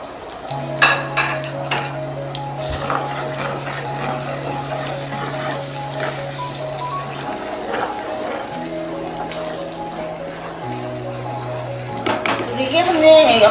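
Finely chopped medium onion frying in a pan, a steady soft sizzle with occasional stirring clinks, heard beneath a sustained tonal hum throughout.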